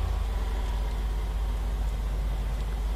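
A car engine in the video game ARMA III drones steadily at a low pitch, a constant close rumble with no pauses for the whole stretch and no other sounds rising above it.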